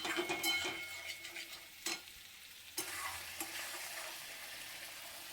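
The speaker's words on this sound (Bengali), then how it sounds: "এদিকে পেঁয়াজগুলি ভাজা হয়ে গেছে" Onions frying in a pan sizzle quietly while a spatula scrapes and stirs, with sharp stirring knocks early on and a few more later over a low, steady frying hiss.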